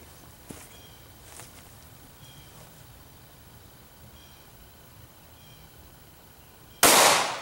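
A single .40 S&W handgun shot fired during an ammunition test, one sharp loud crack near the end after several seconds of quiet ambient noise with a few faint clanks.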